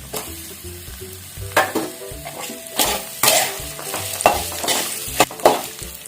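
Tamarind dropped into hot oil for beetroot chutney sizzles loudly, with repeated spoon scrapes and stirring clatters in an uneven rhythm, close up with no talking.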